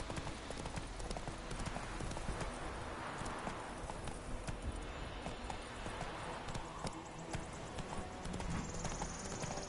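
A horse gallops in The Witcher 3 video game, its hoofbeats a quick, continuous rhythmic clatter under a rushing ambient bed, moderately loud throughout.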